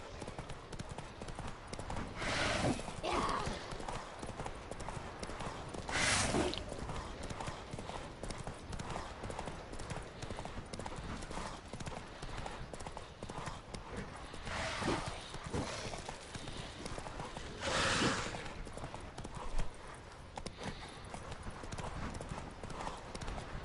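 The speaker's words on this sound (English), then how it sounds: "This horse sucks." Horse hooves clip-clop steadily at a gallop during a chase in The Witcher 3 video game, with an occasional brief whinny and game noise over the continuous hoofbeats.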